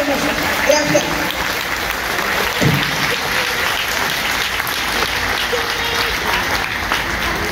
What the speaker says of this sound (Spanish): Vamos a dar un fuerte aplauso a Promotora y a todos estos niños